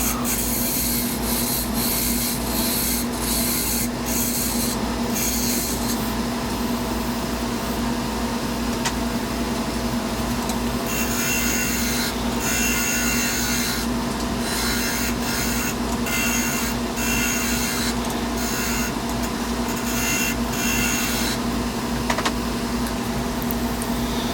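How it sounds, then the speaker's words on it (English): A lathe gouge cuts into a spinning purple heart wood handle, giving a steady, loud rasping scrape with a constant motor hum underneath, broken by rhythmic bursts as the tool repeatedly bites the wood. "one of the gouges here and work the wood down a little bit faster."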